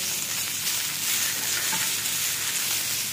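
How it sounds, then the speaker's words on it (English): Garlic, shallot and onion fry in a pan with a steady, close, even sizzle that holds for a few seconds without any talk. "So we will cook the garlic and onion until caramelize, not a brown brown."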